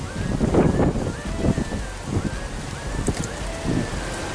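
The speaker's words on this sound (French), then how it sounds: "Y'a du vent!" Gusty wind on a hiking trail buffets the microphone with a steady, rumbling roar, and a thin whistling tone drifts in and out above it.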